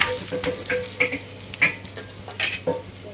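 Adai dosa made with alvali kelangu fries in oil on a pan, a steady close sizzle broken by several scrapes and clinks of a utensil against the pan.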